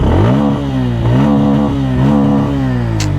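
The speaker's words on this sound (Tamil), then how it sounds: "அந்த எக்ஸாஸ்ட் நோட்" Bajaj Pulsar N160 motorcycle revving close by, its exhaust note rising and falling in three or four steady blips over a continuous loud engine drone, with no talking.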